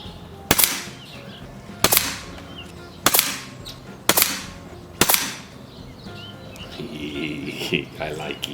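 Daystate air rifle firing .22 pellets, five sharp cracks spaced about a second apart, each with a short decaying tail, followed by quieter background noise and faint birdsong.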